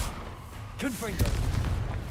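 Confringo blasting spell explosion in the video game Hogwarts Legacy: a single sharp blast with a booming tail, with a voice speaking just before it.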